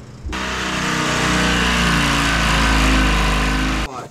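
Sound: Detroit Silver 4-53T diesel engine running on dyno

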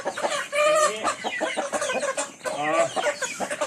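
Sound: fighting rooster crowing and clucking

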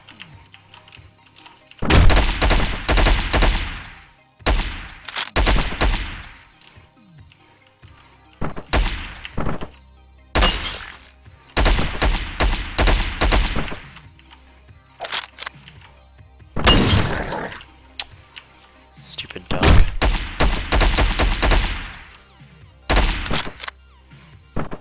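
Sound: gunfire from a video game

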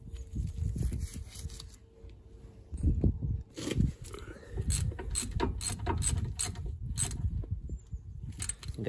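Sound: ratchet tightening Volvo V70 brake caliper bolts

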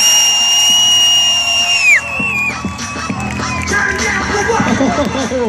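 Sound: crowd cheering truck competitors at Tough Trucks event

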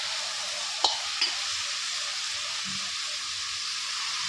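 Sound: stirring and frying potato gobi in a pan

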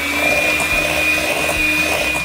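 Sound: electric hand mixer beating butter and sugar

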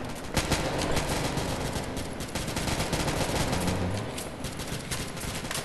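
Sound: gunfire in video game Modern Strike Online

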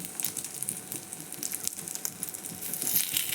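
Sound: spoon omelette frying and being flipped in pan

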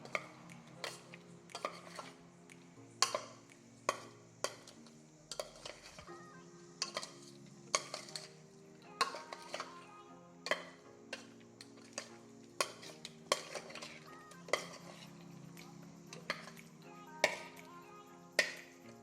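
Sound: mixing fish marinade with cornflour powder

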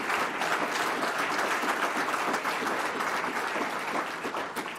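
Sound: audience applause for Mildred

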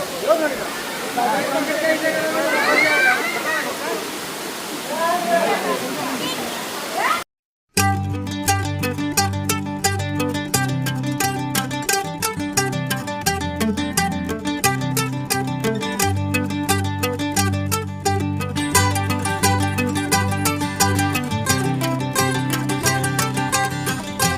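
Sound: Akasha Ganga waterfall at Tirupati

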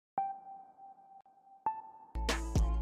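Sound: plucking synth sound playing two notes

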